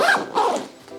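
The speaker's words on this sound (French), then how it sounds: "J'ai plus qu'à fermer le sac." A zipper being drawn shut on a TropicFeel Shell travel backpack, a close, fairly loud rasping pull in a couple of quick strokes lasting about a second, with no talk over it.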